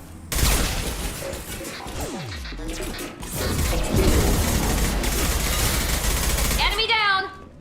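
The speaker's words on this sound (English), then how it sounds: "Taking heavy fire!" Heavy gunfire and crashing impacts in the video game Mass Effect 2, a loud, dense and continuous barrage with explosions, voices shouting over the combat.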